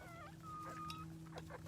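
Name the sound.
chickens clucking on first day out of hen house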